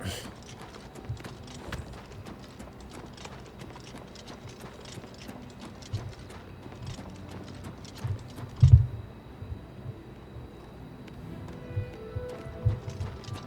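Horse hooves clip-clop in a steady, brisk rhythm in the video game Oblivion Remastered, running for several seconds before a thud breaks off the gait, leaving only quieter, scattered sounds.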